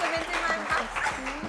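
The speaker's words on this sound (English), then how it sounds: "Let's give a huge round of applause to Mount St." An audience applauds Mount St. Mary's Namagunga at a school competition, with close, continuous clapping under an announcer's voice.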